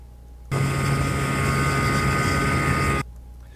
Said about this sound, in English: first time trying the 40 horsepower that we rigged on the G3. It started up instantly.